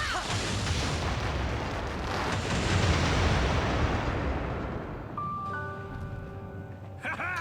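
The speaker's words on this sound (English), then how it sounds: "We need to blow stuff up." Explosions in the Beyond Good and Evil video game, a dense rumbling barrage of booms and blasts that rolls on loudly for several seconds and gives way near the end to tonal game sound effects.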